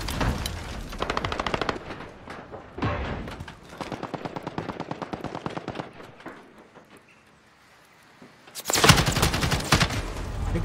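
Rapid bursts of AUG assault rifle fire in Call of Duty: Modern Warfare, loud sustained volleys with short pauses, easing off briefly before a dense final barrage.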